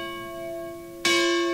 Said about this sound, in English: Ringing the campus bell for each of the shooting victims to show the power of Charlotte Strong, loud and clear.